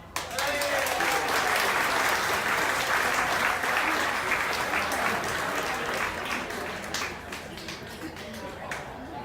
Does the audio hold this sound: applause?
yes